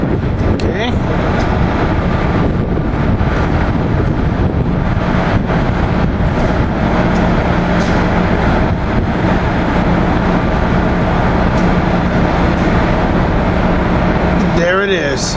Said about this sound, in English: There goes ACS engine 601